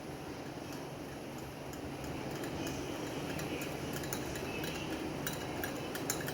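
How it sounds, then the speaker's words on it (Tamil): A whisk mixes cocoa powder and brown sugar in a bowl, making a soft, steady scraping hiss. Faint light clinks of the whisk against the bowl repeat close by. "அந்த கொக்கோ பவுடர் எதுவும் லம்ப் ஃபார்ம் ஆகாமல் ஸ்மூத்தாக மிக்ஸ் பண்ணிக்கலாம்."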